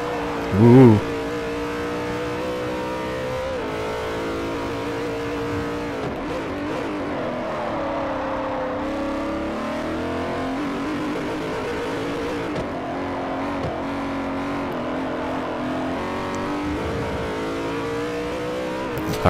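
A BMW GT race car in Forza Motorsport 4 runs a steady loud engine note that rises and falls with throttle as it jolts over track bumps, going on without a break.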